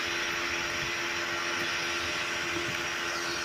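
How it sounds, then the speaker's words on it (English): A vacuum cleaner runs in the background, a steady broadband roar with a constant motor whine, unbroken for several seconds under faint room sounds, with no talking. "Did they just turn on the vacuum?"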